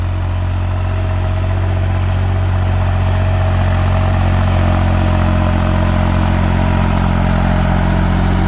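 New Holland tractor engine working under load while harrowing a field for the first pass, a steady continuous drone that stays loud and close throughout with no talk.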